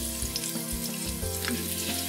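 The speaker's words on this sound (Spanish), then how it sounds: "y empiezo a freír las carnes" Pork and lamb pieces fry in a pan for a rice dish, spattering in a loud continuous sizzle with a few soft clinks as the meat is moved about.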